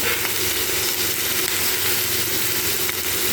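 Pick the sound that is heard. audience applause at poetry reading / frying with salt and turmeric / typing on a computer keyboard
frying with salt and turmeric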